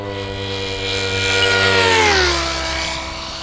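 A Goblin RC helicopter on a high-speed pass near 150 mph whines loudly as it approaches, its pitch sweeping downward as it passes and recedes, with rotor and motor tones alone and no talk.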